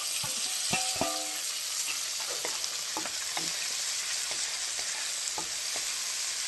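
Green chillies and onions frying in a pan make a strong, steady sizzle with scattered pops and spatters, plus a few stirring clinks early on.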